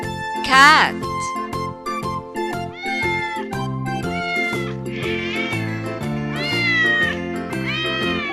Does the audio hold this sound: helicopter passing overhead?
no